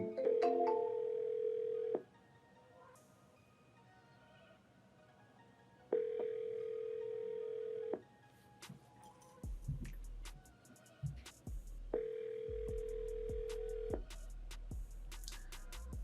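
Ringback tone of an outgoing phone call, two-second ring bursts repeating at a steady interval with quiet gaps between, followed by faint handling clatter and low rumble near the end.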